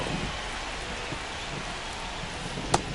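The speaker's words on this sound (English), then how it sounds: "It feels like we might be headed towards a rain delay if the weather doesn't ease up" Steady rain falls throughout a baseball game, a dense even hiss of drops with one brief sharp tap near the end.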